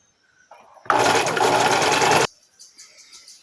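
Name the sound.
sewing machine stitching chita fabric onto a child's skirt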